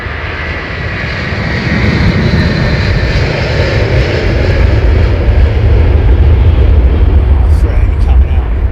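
An airplane passes close by at London Heathrow Airport, its engines a loud, broad roar that swells after the first seconds and holds steady throughout.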